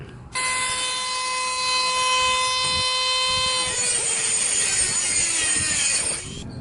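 A loud, steady high-pitched whine of a power tool cutting a metal flange for a vapor gas engine for several seconds, then the motor winds down and stops.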